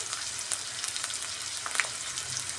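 Onions frying in a pan for potato curry, a continuous bright sizzle heard up close with occasional faint stirring taps, no voice over it.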